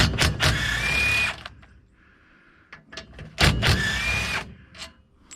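A power tool drives out bolts from scrap aluminum in a scrap metal laydown yard, with two loud whirring bursts, each over a second long, separated by quieter clanking and handling noises.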